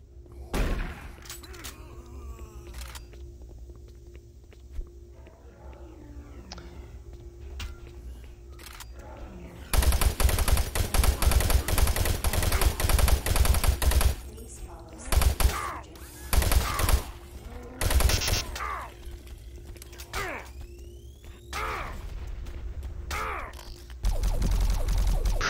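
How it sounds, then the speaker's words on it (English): Rapid weapon fire in Doom 3, loud dense bursts of shooting in long stretches and shorter volleys, interleaved with quieter game ambience and mechanical clanks. "I'm just like randomly just shooting him"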